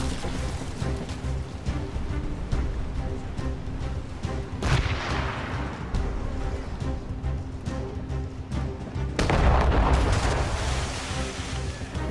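Naval cannon fire in the Assassin's Creed Rogue video game: heavy booming shots and rumbling blasts roll continuously over a sea battle, dense and loud throughout with a strong surge near the end.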